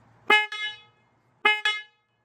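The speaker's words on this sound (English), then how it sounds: "You're going to get another horn honk." Horn on a newer Harley-Davidson Bagger motorcycle sounding two double honks, each a pair of short loud blasts about a second apart, clear and close with nothing else around.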